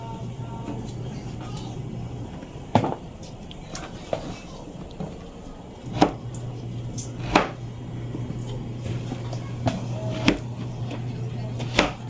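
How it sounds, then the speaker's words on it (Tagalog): Carrots being sliced with a knife on a board, sharp chops landing every second or two over a steady hum and background noise. "hiwain na rin po itong carrots."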